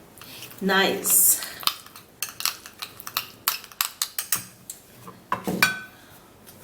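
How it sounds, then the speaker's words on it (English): A utensil stirs and scrapes a tomato paste mixture in a bowl, a steady run of short clinking taps close by, with a brief spoken word near the start. "I would have to be stirring this all up"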